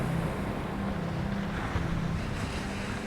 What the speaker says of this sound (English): Look at the waves coming in